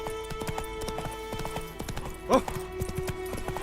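The horse Roach's hooves clip-clop in a steady, close trot in The Witcher 3, with a short whinny partway through and a brief spoken exclamation over the game's background sound.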